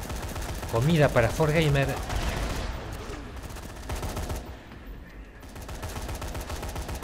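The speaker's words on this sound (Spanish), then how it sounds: "Gran balacera tenemos en este capítulo." Heavy gunfire from the video game Dead Rising 3: a voice talks over the start, then a dense, sustained wash of shooting and blasts fills the rest of the clip at steady loudness.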